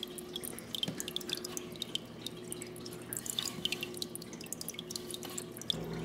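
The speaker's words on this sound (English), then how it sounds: "Look at the pump running in MarsHydro. It pumps water on both sides." A MarsHydro hydroponic garden's pump circulates water to both sides, giving a soft steady hum beneath quick, irregular dripping and trickling, quiet and close.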